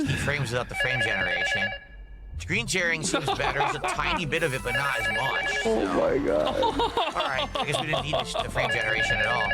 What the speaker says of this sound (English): That's the phone in the game, please.